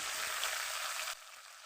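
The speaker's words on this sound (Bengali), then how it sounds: "এপাশ ওপাশ করে ভেজে নিলাম।" Paisa fish frying in a pan, flipped side to side, gives a steady, fairly loud broadband sizzle that drops sharply to a quieter hiss partway through.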